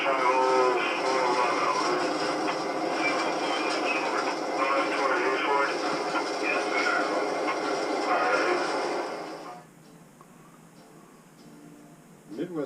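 A Belt Railway of Chicago train, played back from a 1997 railroad video program, gives a steady rolling rumble with a bright metallic edge. The rumble drops away sharply near the end and leaves a faint hum.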